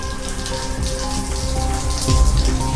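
A running shower sprays water in a steady, loud, dense hiss, like heavy rain on a hard surface, continuing without pause.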